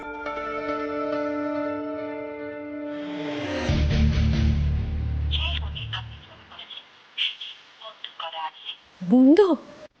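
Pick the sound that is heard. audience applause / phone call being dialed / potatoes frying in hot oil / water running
phone call being dialed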